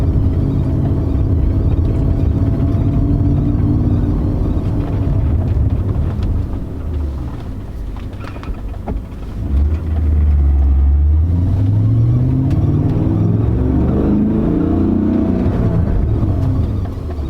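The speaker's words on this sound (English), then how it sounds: "I have noticed a bit of a cabin noise, and let's switch over to a driving clip to see if you can hear it" Cabin noise inside a BMW E39 M5 while driving: a constant loud low rumble and road drone, with engine pitch rising and falling as the car accelerates partway through.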